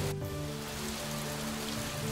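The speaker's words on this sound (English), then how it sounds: "It's raining." Steady rain falls on a surface, a continuous close patter of drops that holds at an even level for the whole couple of seconds, with faint tonal hum underneath.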